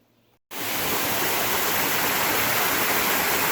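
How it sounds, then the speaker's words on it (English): Sluice Waterfall, roughly 50 feet tall, on the Foothills Trail: after a brief quiet moment, a loud, steady roar of falling water fills everything and continues unbroken. "Look at this waterfall."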